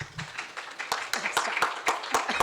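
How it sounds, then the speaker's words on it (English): A small audience claps for the moderators after a student vice-presidential election debate, a brief patter of hand claps with sharp regular beats and some voices mixed in. "can I have a round of applause for our mediators?"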